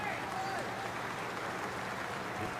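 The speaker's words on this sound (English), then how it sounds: "Every dot ball, you can hear the England fans applaud." England cricket fans applaud a dot ball during a West Indies v England one-day international, a steady wash of crowd clapping heard from a distance throughout, with a voice talking over it.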